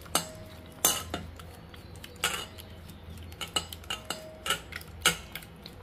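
Egg whites are beaten by hand in a bowl, with sharp, irregular metallic clinks and taps of utensil against the dish over a quiet background.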